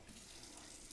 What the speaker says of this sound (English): Run a full stream of hot water for 1 minute.